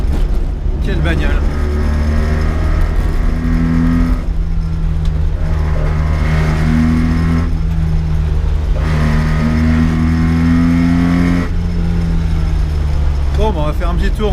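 A 1980 Mitsubishi Minica's small engine drones loud and close from inside the car, rising and falling in pitch through several revs and shifts, with someone talking over it at times.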